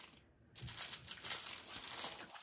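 A small plastic bag holding Aida cross-stitch cloth is handled close up, giving continuous crinkling and rustling after a short quiet start, with no voices.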